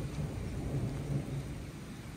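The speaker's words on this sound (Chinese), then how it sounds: "哇，打雷了，打雷了！" Thunder rumbles low and steady over the sound of rain falling at a rural mountain-village house, a continuous deep roll with a dense patter of rain.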